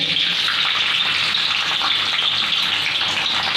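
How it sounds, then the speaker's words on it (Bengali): Cashews and raisins frying in white cooking oil make a steady, loud, close sizzling hiss that runs unbroken throughout, with no talking. "সাদা তেলের মধ্যে খুব সুন্দরভাবে ফ্রাই হচ্ছে আমাদের কাজু এবং কিশমিশ।"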